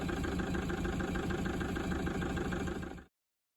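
A badly damaged engine with a cracked piston, pumping out oil, running at idle with a dense, rough, steady rumble that stays loud and even before cutting off abruptly near the end.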